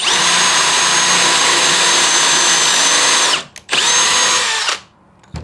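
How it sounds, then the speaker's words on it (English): A power drill with a Kreg jig bit bores a pocket hole in plywood: a loud, steady, high whine for about three seconds, a brief cut-out, a second burst, then it winds down to silence. "drill a hole like so, and you're left with this nice, perfect pocket hole"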